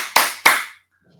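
Two sharp hand claps a moment apart, loud and close, as part of the Tepuk PPK clapping routine in a teacher-training peer-teaching classroom, with brief quiet after.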